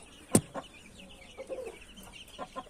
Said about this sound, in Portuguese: Uma galinha preta.